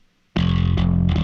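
A heavy, distorted bass line kicks in abruptly and loud, thick and sustained, with a couple of accented hits within a dense chorus of a song.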